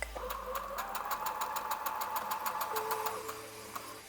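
A sewing machine stitches quilt fabric pieces in one steady, close whirring run with rapid regular needle ticks, moderately quiet and with no talk over it.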